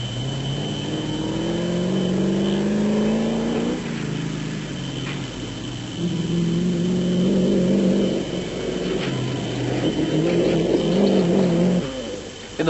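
An off-road race car in the 1996 Sugarbelt Off Road Race in South Africa, heard from inside the car as its engine revs and climbs through gears in long rising pulls, loud and close with rattling vibration.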